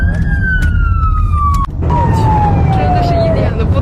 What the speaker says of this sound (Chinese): 他一拉那个警笛车就都让开了